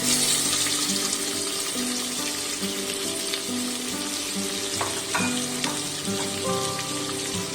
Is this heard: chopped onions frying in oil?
yes